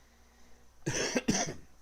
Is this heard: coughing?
yes